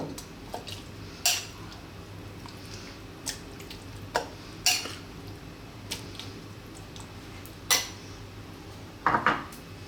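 Curry is spooned into a large pan that was used for cooking rice, giving scattered metallic clinks and scrapes of a spoon on the pan, spaced irregularly over a quiet kitchen background.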